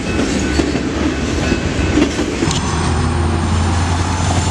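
A Santa Fe Bluebonnet locomotive and a BNSF SD60 ex-Burlington Northern unit rumble past in Pearland, a loud, steady, close roar of engines and rolling cars with clattering wheels throughout.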